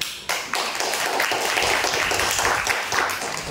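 Listeners at a talk on article writing clap for the speaker after he mentions his published books, a loud, dense burst of hand claps that starts abruptly and carries on steadily.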